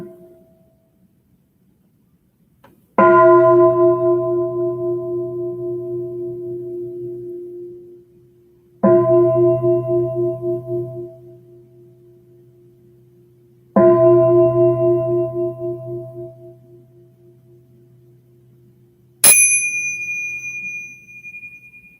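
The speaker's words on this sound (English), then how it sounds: "we will begin with 3 sounds of the bell" A meditation bell is struck three times at the start of a group mindfulness practice, each ring clear and sustained with a long decaying resonance, followed by a brighter, higher chime at the end, heard alone in an otherwise quiet room.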